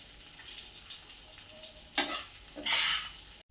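Brinjals sautéed in oil in a pan over low heat, a low sizzle broken by two louder scraping stirs, heard close with no voices.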